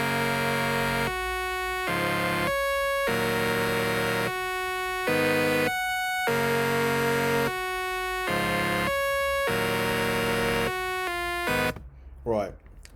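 Stock supersaw chord from a Cymatics MIDI pack, bright and dense, sounding in sustained pulses that stop and restart in a steady rhythm, loud and close, ending in a short sweeping tail.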